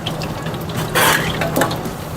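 Fish pieces coated in egg white and tapioca starch dropped into moderately hot oil in a pan, giving a short burst of sizzling and then a second smaller splash of frying noise over a steady low background.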